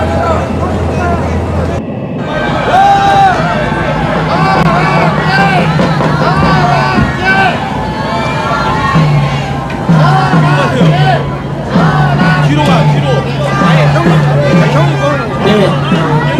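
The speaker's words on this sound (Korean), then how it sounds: "여러분들의 함성 소리가 대한민국에 울려 퍼지고" Large outdoor political rally in Yeouido with a dense crowd roaring and murmuring continuously, a loud sustained hubbub of many voices close by throughout, with a brief dip near the start.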